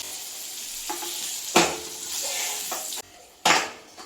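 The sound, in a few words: frying and stirring bitter gourd in oil in a pan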